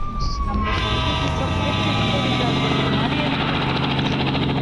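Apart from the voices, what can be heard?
stolen helicopter flying in a video game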